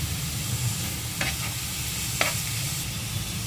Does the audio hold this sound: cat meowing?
no